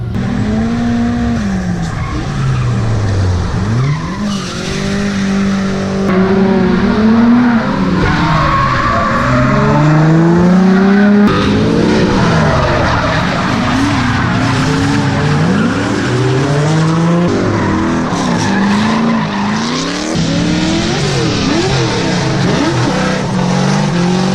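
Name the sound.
cars drifting with skidding tires at Turk Bash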